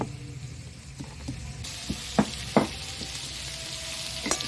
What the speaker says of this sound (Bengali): ভালো করে ভেজে নেব চিংড়ি মাছটাকে